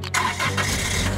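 A cartoon ice cream truck's engine cranks and catches, a brief sputter followed by a steady mid-pitched running rumble, loud and close with no talk.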